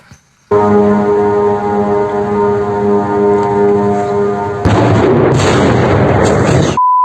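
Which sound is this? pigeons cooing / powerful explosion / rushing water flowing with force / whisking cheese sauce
powerful explosion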